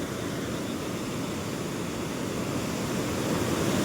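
Steady rain pours at an outdoor fair, a dense continuous hiss that holds evenly loud and close throughout with no voices over it.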